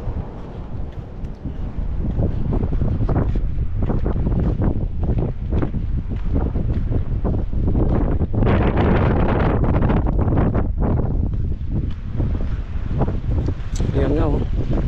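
Strong gusts buffet the microphone on a seashore at low tide, a loud continuous roar with bursts of rumble throughout; a voice is faintly present underneath.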